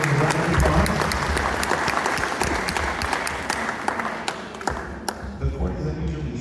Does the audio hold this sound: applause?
yes